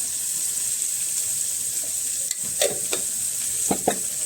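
Sambar powder and coriander powder fry in a pan with a constant sizzling hiss, while a spoon stirs and scrapes in a few short strokes near the end.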